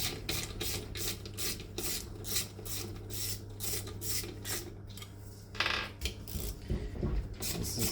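Screws come out of the bottom plate of an Eberspacher Hydronic 10 kW heater, heard as a rapid series of quiet metallic rasping clicks from a tool, steady and close with a brief louder scrape near the end.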